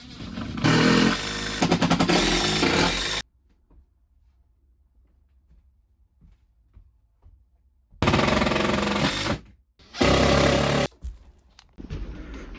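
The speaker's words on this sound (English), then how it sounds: "I'm gonna put so many screws in this" A drill drives screws into a creaky 100-year-old wooden floor in loud bursts of whirring and grinding, two short runs, a long near-silent pause, then two more runs and a last brief burst.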